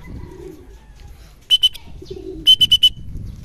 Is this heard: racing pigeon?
yes